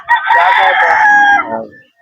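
One loud, close rooster crow rings out at a chicken breeder farm, a single long call that fades at the end.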